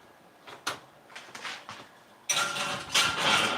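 A kitchen oven door is worked while cast iron cookware goes in to be seasoned at 225. Several light clunks and metallic knocks come first, then a sustained louder rush of oven noise close by, with no talking.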